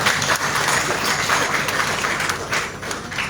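An audience claps for the NAFA board chairman at a vessel commissioning ceremony at Mesurado Pier, a steady, dense wash of applause filling the whole moment with no pause.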